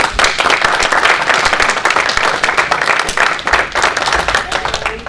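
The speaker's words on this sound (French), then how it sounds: "Si nous pouvons lui donner une ovation, s'il vous plaît." A crowd gives sustained, loud applause in an ovation at an official welcome day event, dense clapping filling the whole stretch with a few faint voices underneath.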